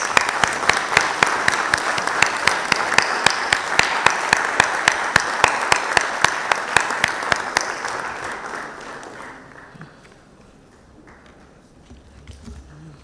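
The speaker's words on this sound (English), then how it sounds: "Let's give a round of applause" An audience at an Ashoka launch event in Bengaluru bursts into steady, dense applause with a few sharp rhythmic claps standing out, then it gradually thins and fades to near quiet.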